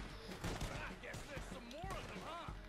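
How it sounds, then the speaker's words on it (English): Gunfire in the Western online game Red Dead Online, several sharp shots scattered through a busy mix, with someone talking over the action. "time to shoot some people"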